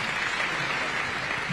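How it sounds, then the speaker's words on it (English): An audience applauds steadily, a dense wash of clapping hands that holds at an even level for the whole moment. "A round of applause for our panel."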